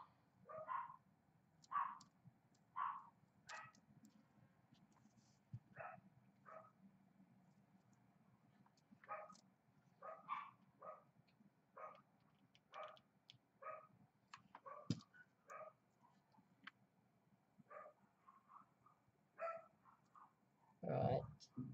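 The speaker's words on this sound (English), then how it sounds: "And there goes the dogs." Neighbours' dogs bark repeatedly in the distance, short sharp barks in irregular bursts over a steady low background hum, faint and continuing throughout.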